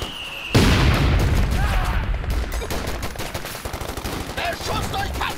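Rapid bursts of Company of Heroes 2 gunfire and booms rattle on continuously, loud and dense, with faint game voices mixed underneath.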